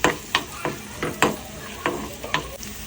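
Onions frying in a pan for pav bhaji, a steady close sizzle punctuated by regular sharp spatula scrapes and stirs about every half second.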